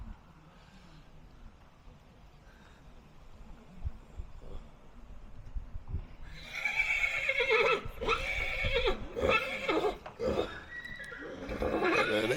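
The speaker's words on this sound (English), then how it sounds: "Horses talking" Horses whinny and neigh loudly and repeatedly at close range, with some hoof clatter, after a quieter stretch with low background murmur and a voice.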